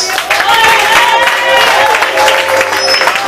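A church congregation in Granja de Freitas, Belo Horizonte, applauds during a worship service: dense, steady clapping from many hands fills the room for a few seconds, mixed with raised voices and a faint musical tone underneath.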